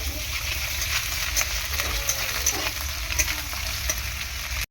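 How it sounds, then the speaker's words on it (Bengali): Onion sizzles steadily in hot oil with ginger and garlic, steady frying hiss punctuated by several stirring scrapes, close and fairly loud. "পেঁয়াজটা হালকা ভাজা হয়ে গেলে আদা রসুন একটু দিয়ে দেবো।"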